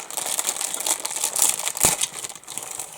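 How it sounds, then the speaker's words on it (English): A plastic bag holding model kit parts for a 1/35 scale Panda Models HMEE-1 excavator crinkles and rustles close by in irregular bursts, with one sharper crackle midway. "Crinkly plastic."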